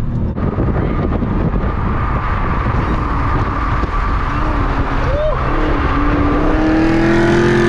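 A Dodge Hellcat and a ZL1 Camaro accelerating hard, loud engine roar close by with a rising whine near the end, heard from inside a moving car.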